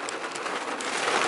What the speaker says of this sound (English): we're about to go into Walmart and it's pouring raining right now